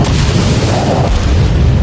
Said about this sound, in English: Gunfire on the right, explosion over there.